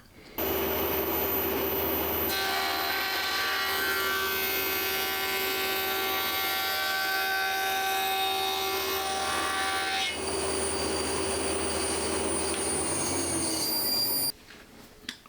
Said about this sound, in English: the cutting noise is actually the same as the running noise